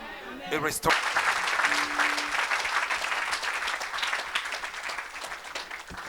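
A church congregation breaks into loud sustained applause and cheering right after a short spoken line, the clapping filling the room for several seconds.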